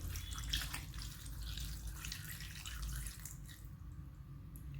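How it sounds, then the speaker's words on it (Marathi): Water pours steadily into a cooking pot in a home kitchen, a close, continuous splashing stream that holds at an even level throughout with no talking. "पहा याच्यात हे पाणी ओतत आहोत"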